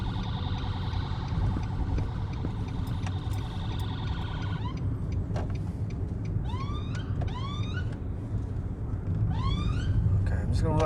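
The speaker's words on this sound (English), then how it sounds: "There's an ambulance right behind us." An ambulance siren wails close behind a car in traffic, its rising and falling sweeps repeating loudly over steady road rumble, with tonal sounds and voices in the car before it.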